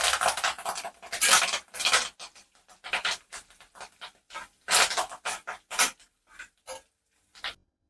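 Cashews fried golden with dried red chillies and curry leaves for katte pongali give irregular bursts of spluttering sizzle mixed with utensil clatter, close and moderately loud.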